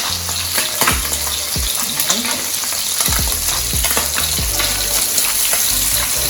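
Vegetables sautéing in a pan for Jamaican escovitch pickle. A loud, continuous sizzle is punctuated by repeated scraping and stirring strokes from a utensil against the pan.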